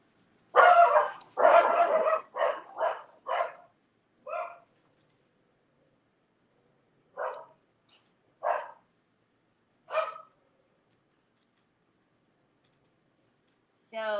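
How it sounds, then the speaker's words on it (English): Dogs barking in short bursts at someone in a backyard, a quick run of several barks followed by spaced single barks, moderately close in a quiet room. "So they're barking at somebody in the backyard"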